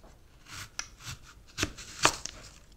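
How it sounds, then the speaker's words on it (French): A knife cuts an apple in half on a board, two or three crisp close chopping thuds with soft rubbing between them, no talking. "On va la couper en deux."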